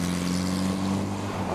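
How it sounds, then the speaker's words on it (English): Busy road intersection with steady, loud traffic: a low engine drone from trucks and cars rolls continuously, with a deep rumble and passing vehicle noise throughout. "Very busy intersection here with lots of traffic"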